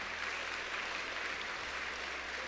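A crowd applauding at a Filipino sermon gathering, an even, continuous patter of many hands at low level from start to finish.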